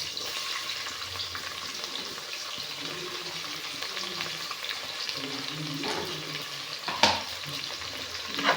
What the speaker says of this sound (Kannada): ಚೆನ್ನಾಗಿ ಫ್ರೈ ಆಗಲಿ ಇದು ಬ್ರೌನ್ ಕಲರ್ ಬರಬೇಕು ನೋಡಿ